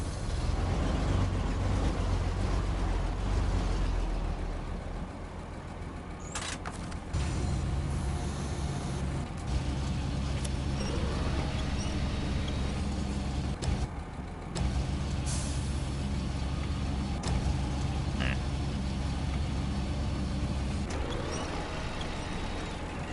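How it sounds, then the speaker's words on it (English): A heavy truck rumbles steadily at close range in the SnowRunner game while maneuvering near a pipe platform during valley pipeline building on hard mode. Occasional hissing air brake releases and clanking mechanical knocks cut through the continuous engine drone. "And I'll just put the truck a bit closer to it so we can pick them up."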